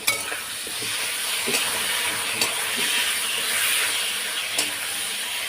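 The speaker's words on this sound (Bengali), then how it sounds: "আদা জিরা গুঁড়ো লঙ্কার গুঁড়ো কাশ্মীরি লঙ্কার গুঁড়ো দিয়ে দিয়েছি একটু ভাজা ভাজা হওয়ার পরে এখন এটা কষিয়ে নেব" Ginger, cumin and chilli powder frying in hot oil give a steady close sizzle, with a few sharp clicks of stirring scattered through it. Nobody speaks.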